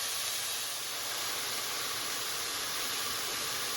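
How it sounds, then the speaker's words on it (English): Food sautéing in a pan while chili is being made, a steady broadband hiss of sizzling that holds at an even level throughout, with no talk over it. "I'm going to just saute this"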